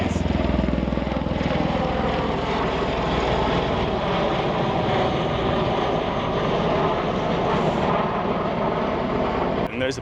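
An aircraft takes off from an abandoned military airstrip, its engine drone loud and continuous and close by for the whole stretch, with a brief rustle at the end.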